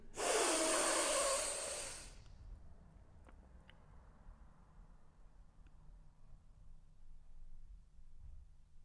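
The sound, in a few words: deep breath in during breathing exercise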